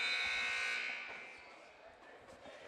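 A loud electronic buzzer at a high school basketball game blares for about a second, then fades into crowd noise and a commentator's voice.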